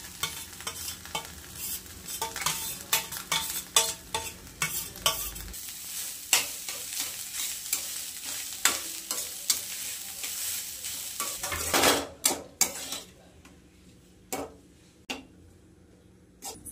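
Freshly grated coconut from two medium coconuts is stirred in a hot pan, with continuous soft sizzling and repeated scraping and tapping of a spoon against the pan, close up, the frying fading out toward the end.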